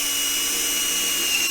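A power drill bores a hole through a snowmobile skid plate on a 2023 Ski-Doo Expedition SWT, giving a steady, close, continuous whine with no pauses and no voices.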